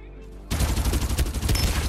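Gunfire in the video game Farlight 84 bursts in abruptly after a brief lull, a loud, dense run of rapid automatic shots that continues without a break.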